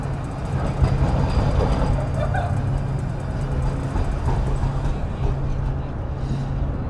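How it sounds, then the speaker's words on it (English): A train rolls past in downtown Houston, a steady broadband rumble with a low drone, sustained and fairly close, fading slightly toward the end. "Here comes the train again."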